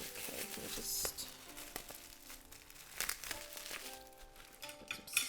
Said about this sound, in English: I'll put this away so it stops crinkling and ruining the voiceover